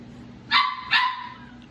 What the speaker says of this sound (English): the puppy's pissed off